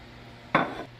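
All-purpose flour is dumped into a mixing bowl for homemade donut dough: one close, short soft thump with a brief rustling tail after a quiet moment.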